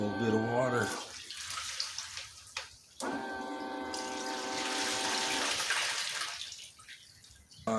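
Water poured into a 5-gallon bucket for cleanup: a steady rushing pour runs for a few seconds amid other tonal sounds, then fades away.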